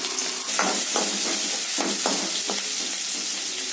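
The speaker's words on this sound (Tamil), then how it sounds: "வெங்காயம் போட்டுருங்க. இளவு வெங்காயம்" Small onions fry in a pan with a steady sizzle, broken by several louder crackling bursts as they are stirred, close and alone with no talk.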